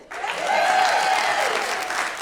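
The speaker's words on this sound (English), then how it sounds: "Y'all better clap it up." A comedy club audience claps for a stand-up comedian, a short, full burst of applause that rises quickly and holds steady for about two seconds.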